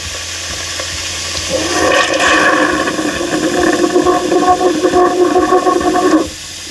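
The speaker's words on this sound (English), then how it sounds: "let it flow, just again, until you get a nice steady stream of nice clean water coming out" Water rushing from the kitchen faucet of a Winnebago Revel AWD camper van during de-winterizing, a loud, steady hissing flow that starts after a quiet moment and cuts off abruptly near the end.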